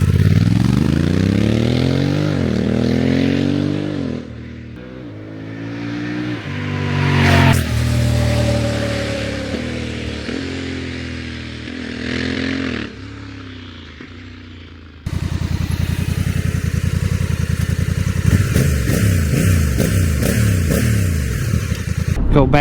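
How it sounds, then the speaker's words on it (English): Honda Africa Twin DCT motorcycle with an SC Project exhaust, revved hard and repeatedly up close. Engine pitch climbs and falls several times, then gives way to a rougher, louder engine drone with crackling pops, with no talking. "let's do a quick sound check of the SC Project exhaust"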